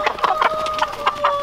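A young Indian Giant chicken clucks in a run of short, close, fairly loud bursts while being held, with a steady tone running underneath and no talk.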